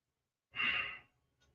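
A single slow breath out during a seated yoga twist in a morning routine, a soft airy exhale lasting about half a second, close and alone in near silence.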